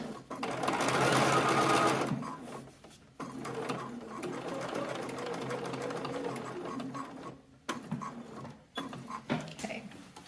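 A sewing machine top stitching the corner of a denim shirt, a steady fast mechanical whir in sustained runs with brief pauses and short stop-start bursts near the end, close by, while someone talks over parts of it.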